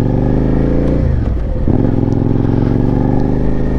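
A Suzuki SV650 motorcycle with a loud aftermarket exhaust rides along, its engine droning steadily and loud throughout, with a brief throttle change and clatter partway through.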